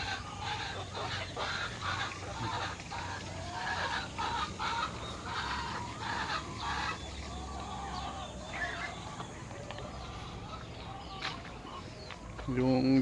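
Shamo chickens in a backyard breeder pen cluck repeatedly in a busy, uneven rhythm at close to moderate distance, with occasional crowing and faint talk in the background.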